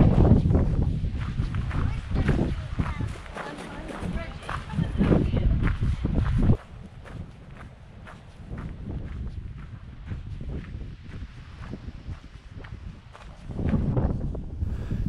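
Footsteps crunch and tap steadily along a clifftop path in Durlston Country Park, Swanage, against gusty wind noise, with a person talking over them.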